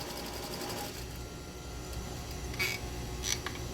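A sewing machine stitches down folded fabric for a face mask in a continuous, faint, even whir throughout, with a couple of small clicks near the end.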